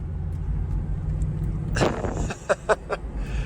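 A 92,000-mile Chevrolet S10 Blazer, a cheap flood-damaged truck with a freshly unstuck clutch, driving: low engine rumble from inside the cab, a sharp clunk or shift noise midway, then a few brief knocks and rattles.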